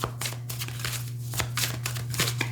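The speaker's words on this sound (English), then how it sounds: "I'll shuffle on camera for this reading as well" A deck of tarot cards is shuffled by hand in quick, papery riffling bursts, fairly close and alone over a low steady hum.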